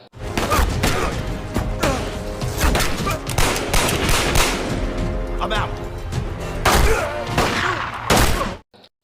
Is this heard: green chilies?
no